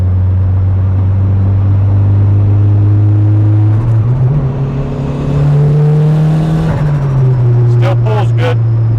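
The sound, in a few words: turbocharged Honda Civic engine accelerating under load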